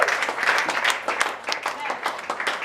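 A church congregation at a prophecy festival applauds and cheers for Jesus, a dense patter of many hands clapping steadily with voices mixed in.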